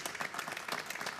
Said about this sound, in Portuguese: Um aplauso, por favor, aos nossos convidados.